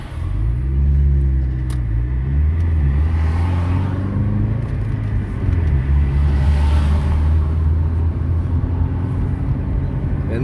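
A healthy delivery car's engine runs after starting, a steady low idling rumble close by that holds evenly throughout with no talk.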